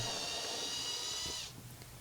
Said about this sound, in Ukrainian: Свердлимо два отвори один біля одного